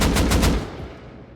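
Burst of rapid automatic AK rifle fire in the video game Rust, with shots ripping out loudly in quick succession for about half a second before cutting off into a fading tail.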